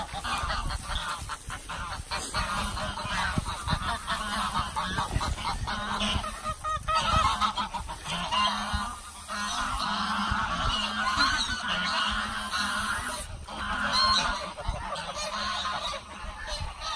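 Geese near their nests honk loudly and repeatedly in a noisy chorus of overlapping calls, close by and continuous, with a brief lull midway before the honking resumes.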